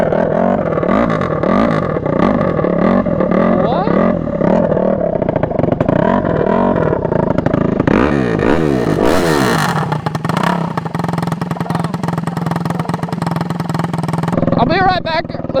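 A straight-piped Honda CRF150RB dirt bike running in race mode, loud and close, with rising and falling revs in the first half, then a harsh steady high idle, and a voice talking briefly over it.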